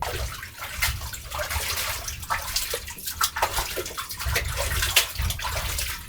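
Water sloshes and splashes steadily in a quarter-filled basin during an outdoor wash, a continuous close-up pouring and rinsing sound with no talk.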